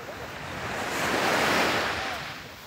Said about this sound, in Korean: 이렇게 파도가 올라오는데도 불구하고